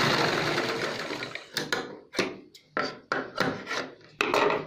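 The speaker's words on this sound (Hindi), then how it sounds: "ये एक सिलाई लग गई, दूसरी भी लगा दो।" Electric sewing machine stitching the seam of a ladies' churidar pajami, a fast steady whir that breaks into short bursts of stitching with brief pauses between them, loud and close.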